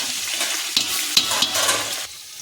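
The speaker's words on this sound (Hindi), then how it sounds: "थोड़े गरम मसाले हो गए, प्याज डालेंगे।" Onions and garam masala sizzle loudly in hot oil for a white aloo pulao, with a steady frying hiss, a few sharp spatters and occasional stirring scrapes, close up and without talk.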